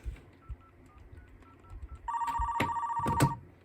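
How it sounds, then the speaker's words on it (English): A custom TDM telephone switch built on Dialogic voice boards plays a call-waiting ringback: soft background noise, then a steady electronic tone pattern begins with short repeated pulses, clear and close. "If you're a call waiting call, you get a special ringback."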